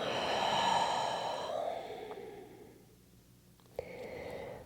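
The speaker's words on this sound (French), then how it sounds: "Et ouvre la bouche et expire." A slow, steady exhalation through the open mouth during a guided yoga breathing exercise, a soft breathy rush that fades out, followed by a brief quiet pause and a faint click.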